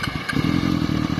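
A motorcycle engine catches after a brief pause and settles into a steady, close, throbbing run with a rumbling low growl and no talk over it.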